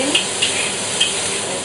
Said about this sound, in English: And saute it.